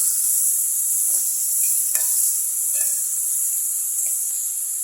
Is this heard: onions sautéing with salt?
yes